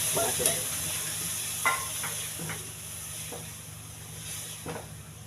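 Curry frying in a pan over raised heat sizzles with a steady hiss while a spoon stirs it, giving occasional soft scraping taps against the pan; the sound stays close and even throughout.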